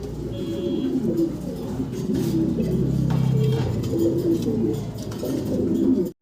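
Fancy pigeons coo steadily and loudly at close range, several birds overlapping in low, rolling calls throughout.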